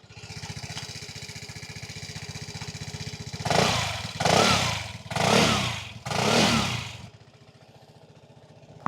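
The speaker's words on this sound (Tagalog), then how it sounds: "Ito yung tunog ng stock pipe" A Vespa Primavera scooter with its stock exhaust pipe idles with a steady putter, then gives four sharp throttle revs in close succession before settling back to idle, heard up close.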